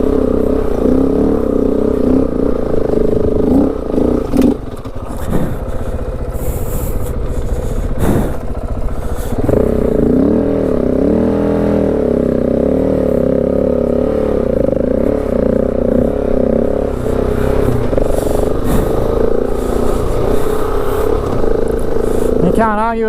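A KTM 690 Enduro motorcycle labors through sand dunes in the Simpson Desert, its single-cylinder engine droning and revving loud and close with wind buffeting, while a rider talks over it.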